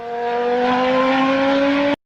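A Formula One car with semi-automatic transmission, driven by Nigel Mansell, screams past at high revs in one loud, steady tonal whine lasting about two seconds before cutting off abruptly.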